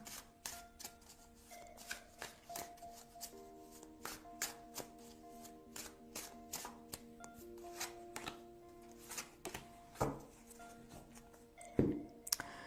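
Tarot cards are shuffled and drawn close up, making a series of soft riffling snaps and light clicks in an irregular rhythm, with no talking.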